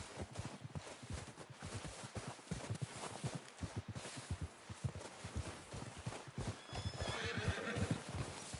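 A horse in Red Dead Redemption walks with a steady clip-clop of hooves, fairly close, and gives a whinny near the end.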